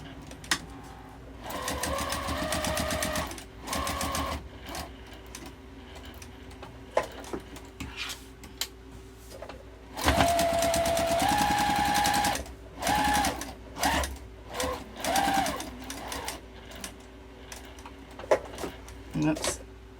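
A sewing machine stitches a fabric wallet made from fat quarters, running in short bursts with forward and back stitching, a whirring rattle that starts and stops between pauses and quieter handling sounds.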